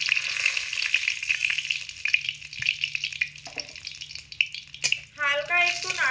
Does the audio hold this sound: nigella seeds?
yes